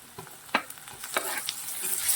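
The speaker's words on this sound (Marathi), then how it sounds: "पाच सहा कडीपत्त्याचे पानं मीठ घालत आहे ते दोन मिनटं तळून झाल्यानंतर" Onion and curry leaves frying in a pan with salt, a steady soft sizzle broken by a few sharp stirring scrapes and clinks, close and alone without speech.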